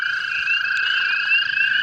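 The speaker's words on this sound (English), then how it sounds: "we're seeing a bunch of toads tonight, literally. There's another one calling right there." A toad trills at night during spring breeding activity, a steady sustained high-pitched call held continuously and fairly close, with no talking.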